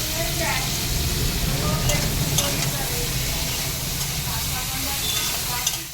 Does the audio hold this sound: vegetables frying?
yes